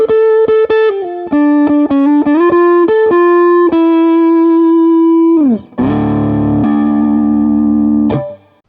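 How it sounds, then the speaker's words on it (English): Electric guitar runs through a VFE Dark Horse distortion pedal, first a quick series of picked notes, then a sustained saturated chord, loud and compressed with no voices. "Next we have the VFE Dark Horse. This is a distortion that ranges from pretty mild to really saturated and compressed."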